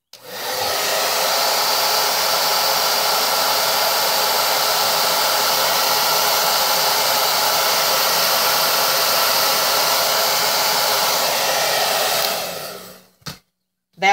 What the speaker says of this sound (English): you hit it with your dryer on hot with the other